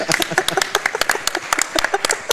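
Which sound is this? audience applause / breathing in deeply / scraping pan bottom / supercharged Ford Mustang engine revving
audience applause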